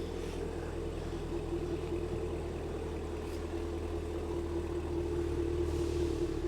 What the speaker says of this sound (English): PJ, why don't you go out and let them listen to the exhaust note?